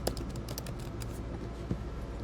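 Typing on a computer keyboard at a steady, fast pace, soft clustered key clicks running throughout at moderate distance with no voices.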